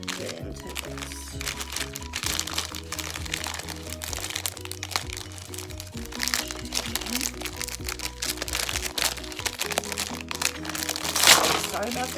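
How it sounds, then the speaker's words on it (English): Crinkling plastic packaging around Burano nail topcoats, handled in bursts of crisp rustles and crunches close to the mic throughout, under steady background music with someone talking. "Sorry about the crinkling."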